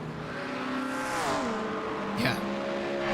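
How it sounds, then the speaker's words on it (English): A race car sweeps past at Road America during a six-hour endurance race. Its loud engine note holds steady, then drops sharply in pitch as it passes, with a brief whoosh at the moment it goes by. "Car sounds so good in flybys."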